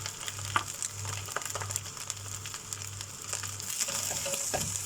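Fried egg and chicken being mixed into fried rice in a pan for street-style chicken fried rice, a continuous close sizzle with light spatula scrapes over a steady low burner hum.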